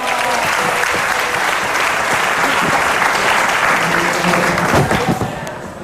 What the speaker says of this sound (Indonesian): Monggo, tepuk tangan dong.